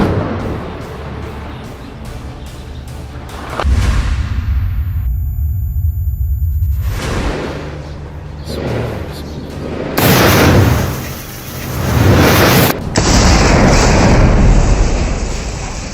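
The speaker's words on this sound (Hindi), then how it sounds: "एक साथ गोले दाग देते हैं, जिसमें जोरदार धमाका होता है" Heavy booming blasts and bursts of loud rumbling noise from artillery shelling in Rafah, Gaza, several in succession, with roaring stretches between them.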